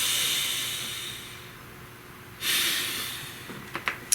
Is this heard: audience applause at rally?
no